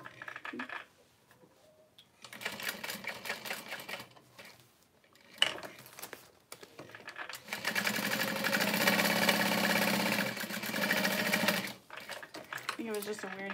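A sewing machine stitching a handbag runs in short bursts and one long steady whir, stopping and starting with clicks and clunks from a bobbin problem, with a voice speaking in between.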